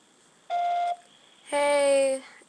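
A voicemail recording beep sounds as two clean electronic tones, a short pure beep followed by a longer, louder, richer tone, close and alone on a quiet phone line.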